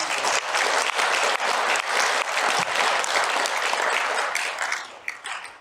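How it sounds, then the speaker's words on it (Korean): Sustained audience applause fills a Buddhist seminar hall, dense and steady at close range, thinning into a few scattered claps near the end. "세 분의 발제분과 9분의 교수님께 다시 한번 큰 박수를 보내주십니다."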